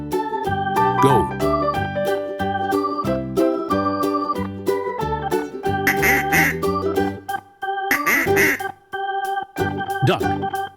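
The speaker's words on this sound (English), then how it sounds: "Duck." A farm duck quacks in a string of short calls over a bright, steady musical backing, with no talking.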